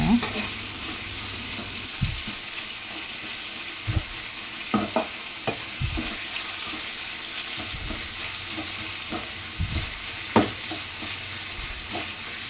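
Quiet steady sizzle of spices frying in a pan, with occasional scrapes and clinks of a spoon stirring throughout.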